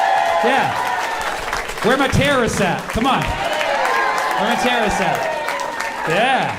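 A crowd of kids cheers and whoops loudly and steadily, rising in swells under someone shouting over them, with a few claps mixed into the noise.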